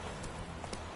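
A horse in The Witcher 3 gallops in a short burst of a few quick, close clip-clop hoofbeats with no voices.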